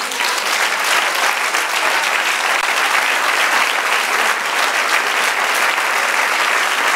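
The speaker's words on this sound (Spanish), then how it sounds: "Denle un aplauso" A church audience at a Spanish-language sermon gives loud, sustained applause. Dense, even clapping fills the room at a steady level from start to finish with no pause or fade.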